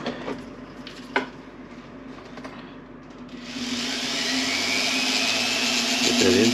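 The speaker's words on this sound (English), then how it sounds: "maybe give him one final buffing on the buffing wheel" A wood ring is pressed to a spinning buffing wheel; after a few faint knocks and taps, the motor starts and rises into a loud, steady, airy whir that holds to the end.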